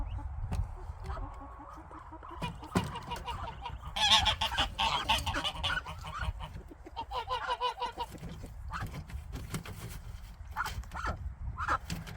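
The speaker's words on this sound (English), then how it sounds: "So these ducks have been in this coop, and the ducklings are about 2-3 weeks old now, and they're now old enough to come out." Domestic ducks and two-to-three-week-old ducklings being moved out of a coop on a smallholding: repeated honking quacks and peeping calls, close and fairly loud, with shuffling handling noise in between.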